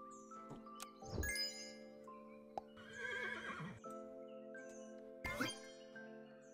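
Horse neighing in the video game Super Auto Pets, a loud synthetic whinny followed by clinks, chimes and game sound effects over steady background music.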